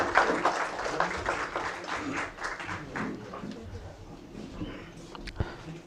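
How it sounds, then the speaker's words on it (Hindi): Applause from an audience greeting a minister's arrival, a dense patter of clapping that is loudest at first and gradually thins and fades over several seconds, with some voices mixed in. "तालियों की गूंज में इस्तकबाल करें।"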